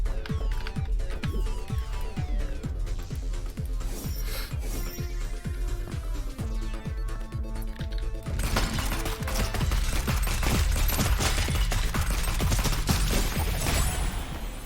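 Sustained gunfire in the roguelike shooter Neon Abyss, dense rapid shots rattling over a busy, steady music bed, growing heavier in the second half, with no talking.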